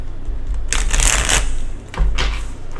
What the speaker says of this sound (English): that's the last shuffle for Pisces